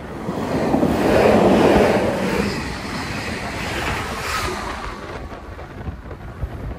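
Strong wind roars and buffets the microphone, swelling loudly at first and then easing to a rougher, gusty rush.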